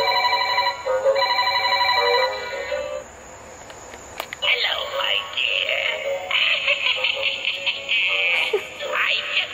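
A Halloween decorative toy telephone rings with a bright electronic trill in repeated bursts, then gives way to a warbling, distorted sound effect, loud and close throughout.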